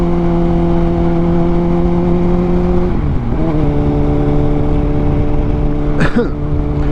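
Motorbike accelerating hard in first gear while popping a wheelie without using the clutch, a loud, steady engine drone with a pitch dip midway and a sharp rise near the end.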